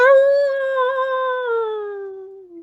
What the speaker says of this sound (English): You hear a howl in the distance.